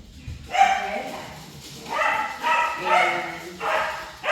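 Loud household dogs bark in short repeated bursts close to the microphone, four or five yappy outbursts with brief gaps and some whimpering.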